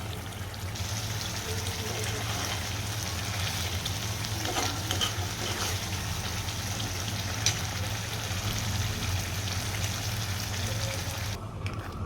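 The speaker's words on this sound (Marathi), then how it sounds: "टमॅटोची ग्रेव्ही करायची आणि तेलामध्ये फ्राय करायची" Tomato gravy for paneer butter masala frying in oil gives a continuous dense bubbling sizzle that holds steady and close for the whole stretch, with a few faint clinks and no clear talk.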